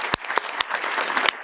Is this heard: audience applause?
yes